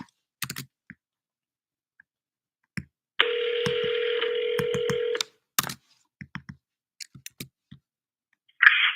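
Phone call being dialed while following up a real estate lead: scattered clicks, then a steady two-second ringback tone, more clicks, and a short burst at the end, near and clear with no talk.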